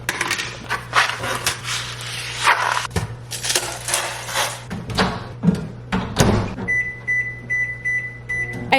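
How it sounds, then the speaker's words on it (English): A microwave oven hums steadily while cooking pasta in a pasta boat, with loud clatters and knocks close by, and a string of short electronic beeps near the end. "I have 15 minutes while that cooks in the microwave"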